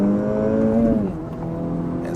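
An Acura Integra Type S engine pulls hard under acceleration. Its loud, close droning note holds steady, then drops in pitch partway through, like a gear change.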